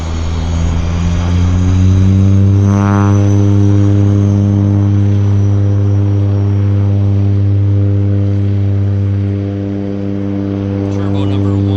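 A turboprop floatplane at Vancouver Harbour floatbase runs loud and close with a steady propeller drone and layered harmonics, pitch rising slightly early on before easing, with no break in the sound.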